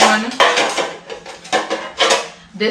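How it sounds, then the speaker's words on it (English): Non-stick baking pans of different sizes clatter as they are handled and set down, giving several loud, close metallic knocks and scrapes in quick bursts. "they're non-stick dish baking pans of different sizes"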